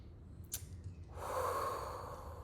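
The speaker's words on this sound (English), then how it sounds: "let's take a deep breath in." A person takes a deep breath in, heard close and clear as a long airy inhale after a brief sniff, sustained to the end.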